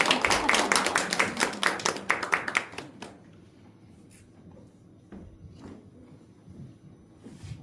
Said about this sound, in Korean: 목사님께 큰 박수로 환영합니다.